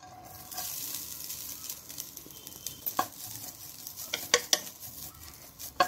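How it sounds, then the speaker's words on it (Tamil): Grated coconut dry roasting in a pan for pidi kozhukattai, a faint dry rustle with a quiet crackle, broken by sharper scrapes and taps of a spatula against the pan growing more frequent toward the end. "தேங்காய ட்ரையா வறுத்து எடுத்தாச்சு."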